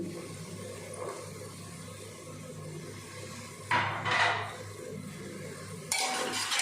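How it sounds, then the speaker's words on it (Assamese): Small-cut carrots fry in a pan with onions already browned, under a low steady background, broken by two short bursts of scraping and stirring against the pan. "গাজৰখিনি অলপমান ভালদৰে ভাজিম"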